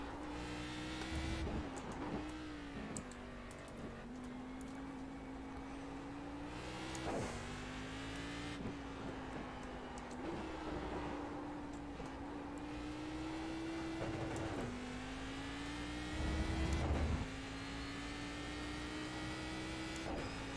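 Cadillac CTS-V racing at Silverstone in a Fanatec Global Challenge game, its engine whining and droning as it accelerates, pitch climbing then dropping at each gear shift over several cycles, steady and close with no voices.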